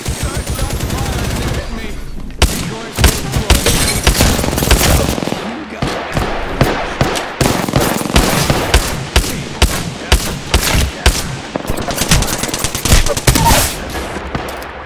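Rapid automatic gunfire crackles in Apex Legends, loud repeated bursts and single shots firing almost continuously, close and punchy, with a player's voice occasionally mixed in.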